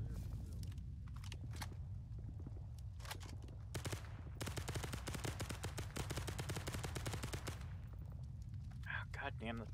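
Machine gun laying down suppressing fire in Arma 3 (S.O.G. Prairie Fire) on the Hai Phong map: short bursts of rapid shots, then a long sustained automatic burst lasting several seconds, with a few more shots and a voice at the end.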